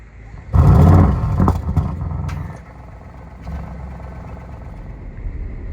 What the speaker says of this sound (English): hear the backfire.